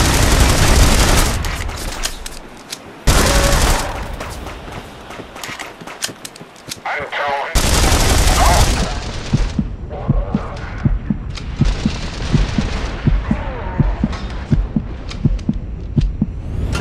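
Gunfire erupts in The Saboteur, a game set at a fueling station with a radio tower, with loud bursts and a rapid run of sharp shots under music and game noise, and a brief shouted voice.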